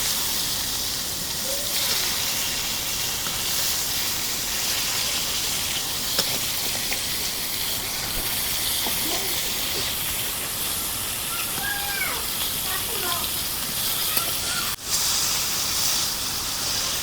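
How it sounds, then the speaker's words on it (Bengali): Green banana and fish frying in hot oil, a steady broadband sizzle running throughout with a few faint knocks, and a brief sharp click near the end. "কাঁচকলা মাছ ভাজা হয়েছে"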